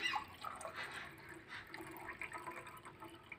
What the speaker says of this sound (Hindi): अभी मैं इसमें भी पानी डालूंगा